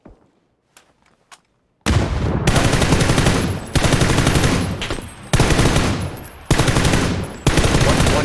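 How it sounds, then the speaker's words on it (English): Loud automatic gunfire hits the player in PUBG on the Erangel map, coming in long rapid bursts with brief pauses between them, after a few faint clicks at the start. "Oh my god, I'm getting shot."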